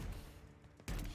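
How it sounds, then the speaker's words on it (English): A shock cannon fires in the video game The Outer Worlds, a loud, harsh burst of crackling noise that trails off and then erupts again in a second heavy blast. "That shock cannon is rubbish."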